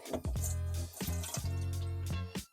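Water drains from a disconnected 1.5-inch union P-trap under a kitchen sink into a bowl, a steady close splashing pour that keeps up for over two seconds with a few gurgling surges.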